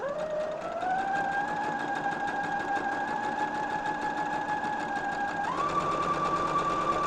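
A sewing machine runs steadily on quilt blocks, a continuous close mechanical whir that holds an even pitch and steps slightly higher near the end. No voices are heard.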